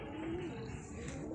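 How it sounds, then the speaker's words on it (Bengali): A pigeon coos softly at dawn, a single low rolling call heard faintly at a distance in a quiet morning setting. "সকালে এবারে পাখির ডাক কত সুন্দর ভোরে।"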